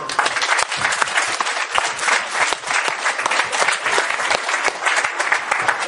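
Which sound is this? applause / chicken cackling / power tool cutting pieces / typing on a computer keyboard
applause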